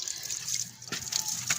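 Water is poured into a bowl for cats, giving a brief bright trickle and splash with a couple of sharper drips and pours, heard up close.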